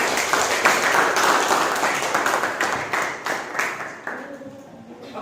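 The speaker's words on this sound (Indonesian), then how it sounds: "Tepuk tangan anak-anak." Schoolchildren in a classroom clap together, a loud, busy patter of many small hands that fades gradually toward the end, with no talking over it.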